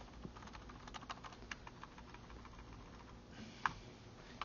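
Steady typing on a computer keyboard while programming, a quiet run of irregular key clicks with a few sharper taps, alone with no voices.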